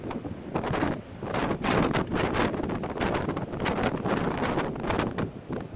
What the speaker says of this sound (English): The clip you're watching right now, it was super windy.